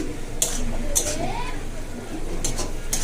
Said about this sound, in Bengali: এখানে শাক ভাজা বসিয়েছি